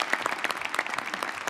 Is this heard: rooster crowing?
no